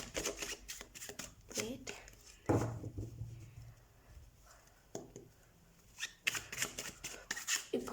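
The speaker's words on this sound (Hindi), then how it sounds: "Let's shuffle your cards Aquarius." Tarot cards shuffled by hand for a zodiac reading, a run of quick papery riffles and soft flicks in bursts, close by, with a person talking over and between them.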